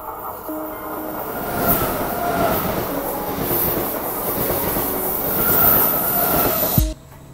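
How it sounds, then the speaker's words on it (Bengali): A train rolls along with a loud, steady rumble, rattling wheels and occasional high squeals, before the noise cuts off abruptly near the end, on a rail journey from La Spezia in Italy. "সো আমি ট্রেনে উঠে গেছি"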